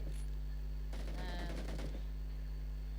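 A rapid burst of gunfire rings out in the video game BGMI, a quick rattling volley lasting about a second over a steady low hum, followed by quiet.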